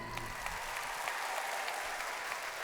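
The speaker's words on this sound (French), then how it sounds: "Ah, Guyane, ça s'applaudit, hein." Audience applause in a large theatre hall, a dense, even wash of clapping from many people that holds steady at moderate loudness for a couple of seconds.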